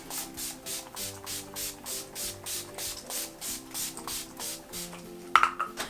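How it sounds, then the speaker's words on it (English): Makeup setting spray is pumped onto a face in a quick, even series of about a dozen short misting bursts, close and soft, over quiet background music. "I'm just going to use some setting spray."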